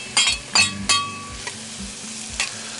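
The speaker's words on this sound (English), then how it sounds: "Let's go ahead and put our onions in now." Sweet Vidalia onions hit a hot Field Company skillet, giving a few sharp scraping stirs followed by a steady frying sizzle, close by with no talk.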